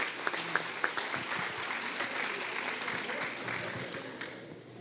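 Church audience claps after a theatre sketch performed during a service, a broad steady wash of applause with a few sharper claps near the start, fading slightly toward the end.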